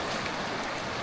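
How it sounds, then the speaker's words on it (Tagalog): Strong, fast floodwater of a river surging past a riverside camp during a flash flood, a steady dense roar of rushing water close by with no voices. "Lakas na ng tubig talaga."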